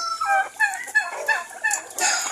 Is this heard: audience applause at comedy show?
no